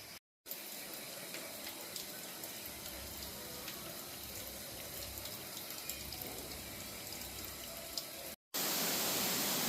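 Water rushes in a continuous broadband hiss from a waterfall near a jungle trail in Taipei, steady and fairly loud throughout, with a brief cut near each end.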